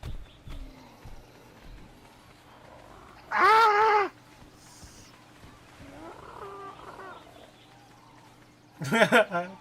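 A cat's drawn-out yowls break twice through a quiet game soundscape in ARK: Survival Evolved, loud and tonal, with a faint murmur between them.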